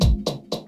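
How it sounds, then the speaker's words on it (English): A Phantom Echo filtered echo effect on a Pioneer DDJ-FLX4 DJ controller repeats a short sound three times in quick succession, each repeat thinner and quieter, trailing away. "it's basically like an echo with the filter"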